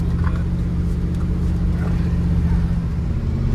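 A dump truck's engine runs on short throttle, a loud, steady low rumble with strong harmonics that holds close and even throughout, with no voices heard.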